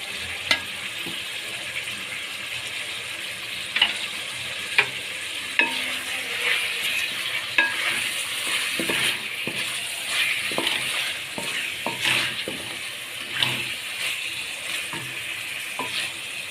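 Chicken fries with onions in a pan for a chicken shimla mirch dish, a steady close sizzle with the scrape and clack of a spoon stirring now and then.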